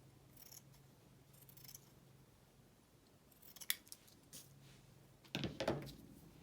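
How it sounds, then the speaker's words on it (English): Scissors cut off the curled edge of a piece of paper, with a few crisp snips close by followed by a louder pair of cuts, amid light rustling. "Let me cut off the curled,"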